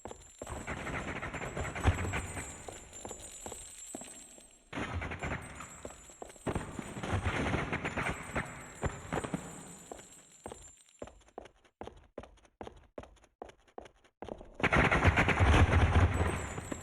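Gunfire from a weapon in the unreleased PS2 video game 100 Bullets: sustained rapid shots, then a long string of separate sharp single shots at a steady pace, and a final loud dense burst, all close and alone without talk.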